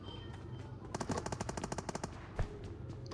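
Gunfire in a shooter video game comes as a rapid burst of roughly a dozen automatic shots, followed by a single louder shot a moment later, sharp and fairly close, with no talking.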